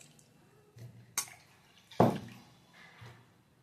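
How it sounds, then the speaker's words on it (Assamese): Cooked soybean chunks are squeezed by hand, releasing a few quiet, separate drips and splashes of water into a bowl in a calm kitchen. "এয়া নিউটেলাখিনি ঠাণ্ডা হোৱাৰ পিছত মই এনেকৈ ভালকৈ চেপি লৈছোঁ।"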